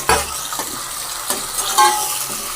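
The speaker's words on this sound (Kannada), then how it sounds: "ಟೊಮೊಟೊನೂ ಅಷ್ಟೇ ಚೆನ್ನಾಗಿ ಒಂದು ಸ್ವಲ್ಪ ಫ್ರೈ ಆಗಬೇಕು." Chopped tomatoes frying in a pan for chicken biryani, a close sizzling hiss broken by a few soft scraping stirs and knocks, with no talking.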